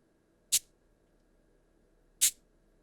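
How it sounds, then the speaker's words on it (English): Two crisp, isolated shakes of a cabasa sample from an EMU percussion drum module, spaced well apart against near silence. "and it is a Cabasa sound"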